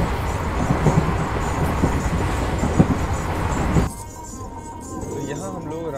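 A train pulling into Ramdevra railway station in Rajasthan, India, rumbles and clatters loudly under some voices, then the noise suddenly drops to a quieter, calmer level as it slows on arrival.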